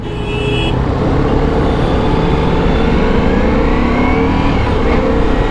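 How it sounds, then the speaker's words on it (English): A Ducati Multistrada V4 motorcycle engine hums steadily and smoothly from close range, with wind rush and a faint rising whine as it pulls along. "this engine is so smooth"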